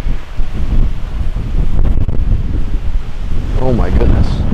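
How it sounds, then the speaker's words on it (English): Strong wind in a stormy spell roars and buffets the microphone continuously, a loud rumbling gust with no pause, and a brief faint voice near the end. "It is crazy windy."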